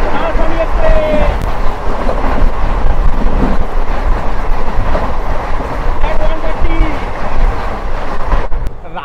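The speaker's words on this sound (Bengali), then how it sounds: "এবার শেয়ার করব কিং 12302 নিউ দিল্লি থেকে ভারতবর্ষের সর্বপ্রথম চালু হাওড়া রাজধানী এক্সপ্রেস" The 12302 Howrah Rajdhani Express from New Delhi rushes past, a loud, continuous rumble of rail wagons with wind buffeting throughout and no break in the noise.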